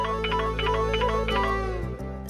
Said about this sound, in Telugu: ఫోన్ వచ్చింది మీ కొడుకేమో